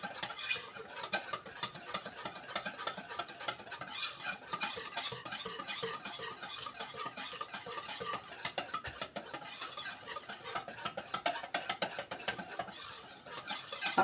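A whisk stirs a white chocolate cream filling for wafer sheets in a bowl, giving rapid, busy scraping and clinking strokes that go on steadily and close up, with no talking.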